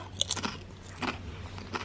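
Crisp crunching bites into tarragon-flavoured Caucasus Chips Frixx potato chips from Georgia, a sharp first crunch followed by a few more close, dry crackling bites and chewing, with no talking.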